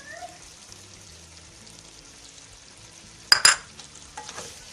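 Onions stirred in a pan with mixed spices, salt and sumac, giving a faint, soft sizzle and scraping, then a brief, louder spoon clatter against the pan near the end.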